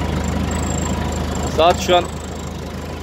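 A tractor engine runs at a steady low drone while ploughing a pistachio field in Urfa, and someone speaks briefly over the constant hum.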